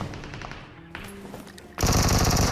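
Gunfire in the mobile shooter BGMI, a few scattered shots followed by a loud, rapid burst of automatic fire at the end.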